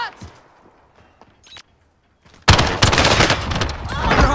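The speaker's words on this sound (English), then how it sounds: "Shots! Under hostile fire!" Heavy automatic gunfire in Call of Duty Warzone erupts suddenly and loud after quieter moments, a dense continuous burst of rapid shots filling the second half.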